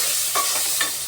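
Onions fry in oil in a pan for a Guntur-style chicken dish. A steady sizzle and hiss runs throughout, with two brief scraping stirs over it, close and alone.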